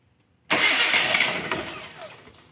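A car engine on a diagnostic bench, with no spark at all in its second cylinder, cranks and catches roughly, a loud burst that begins abruptly and then slowly fades, heard alone with no talk.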